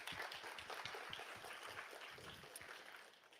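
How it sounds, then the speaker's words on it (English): A conference audience at the FOSSASIA Summit gives faint, distant applause that holds steady, then thins and fades toward the end. "So a big round of applause for all of you for being here."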